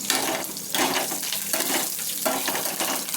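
Curry leaves and green chillies fry in oil on a tawa, a close, loud sizzle that swells and eases in several waves as they are moved around, with no talking.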